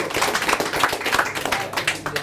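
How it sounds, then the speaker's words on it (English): An audience at a sales mastermind seminar claps in a brief, uneven round of applause. The clapping is moderately loud and close, with a faint voice underneath. "Give him a round of applause for that."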